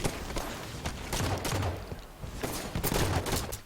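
Gunfire in a first-person shooter video game, with rapid bursts of overlapping shots and sharp cracks, a dense fusillade that pauses briefly and then resumes, loud and close.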